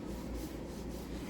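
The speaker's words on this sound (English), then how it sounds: "rub the dish detergent on the back of the iron to remove any of the soiled bits" Damp cloth rubbing dish detergent across the back of a household iron: a steady, close, low scrubbing rustle that continues evenly without pause.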